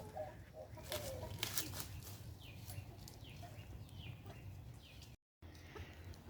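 Free-range chickens in the tropics cluck softly at a distance outdoors, with scattered short calls and faint bird chirps over a quiet background hum.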